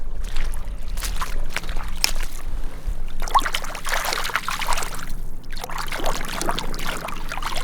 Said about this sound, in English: Pop down to the water's edge, give it a little rinse